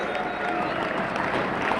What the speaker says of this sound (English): And I'm sure he loves that applause